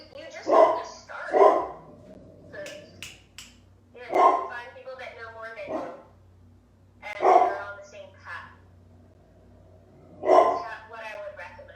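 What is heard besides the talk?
dog barking in the background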